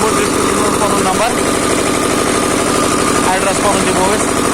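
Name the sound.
Kirloskar 7 hp diesel engine running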